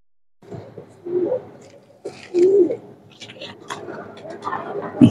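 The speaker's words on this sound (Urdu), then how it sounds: "بلٹ کبوتر ہیں دوستو جو میرے دوست نے خود بنائے ہیں اپنی محنت کے ساتھ، اچھے کبوتروں کے کراس کر کے،" Saharanpuri bullet pigeons, crossbred from good stock, give a few low throaty coos in short bursts, separated by pauses and mixed with shuffling and other background noises nearby.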